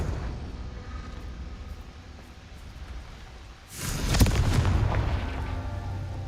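A Confringo blast spell explodes in the video game Hogwarts Legacy. A steady low rumble gives way to one loud, booming burst that stays as a sustained roar.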